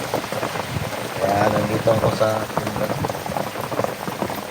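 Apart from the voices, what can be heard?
heavy rain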